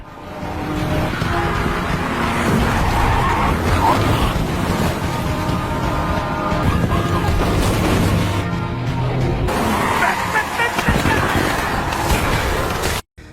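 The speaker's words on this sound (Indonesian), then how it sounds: "tiba-tiba gerombolan orang gila pun kembali mengejarnya dengan mobil, dan kembali terjadi adegan kebut-kebutan yang seru di sini" A car chase in the zombie film Peninsula: loud engines roar and rumble continuously, and crashes and booms are layered over dense action noise before a sudden cutoff at the end.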